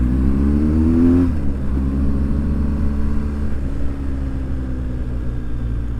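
A car overtakes on a road in Türkiye, its engine note sliding down as it passes close by, loud and steady under constant road and wind rumble recorded from a moving motorbike.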